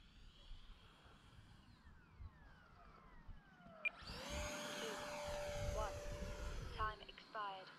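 An E-flite F-15 Eagle RC model jet whooshes past with a rising, then falling electric ducted-fan whine, quiet and somewhat distant, over outdoor background noise with brief voices.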